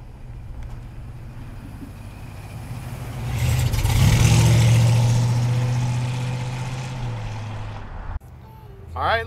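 A 1967 Chevrolet C10 pickup drives along with a steady engine drone that swells as it accelerates, then eases off, heard close from inside the cab.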